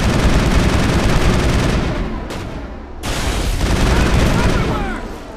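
Continuous loud gunfire and fusillade in the Mass Effect video game, rapid overlapping shots filling the whole stretch with a momentary break near the middle.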